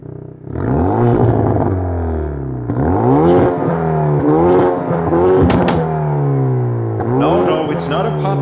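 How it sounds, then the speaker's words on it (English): Hyundai i30 N Performance exhaust revving in repeated rising and falling sweeps at close range, punctuated by sharp crackles and pops between pulls, on a German circuit. "It's just the exhaust of my Hyundai."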